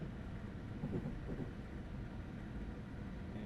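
A Class 350 electric multiple unit in Train Simulator Classic, leaving Liverpool Lime Street toward Crewe, giving a steady low cab rumble with faint rail noise, fairly quiet and continuous with no talk.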